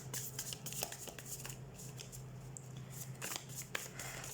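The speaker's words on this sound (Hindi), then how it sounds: "तो सबसे पहले हम कार्ड शफल कर लेते हैं" Tarot cards shuffled by hand, giving soft close riffles and papery clicks in an even rhythm over a faint low hum, with no voices.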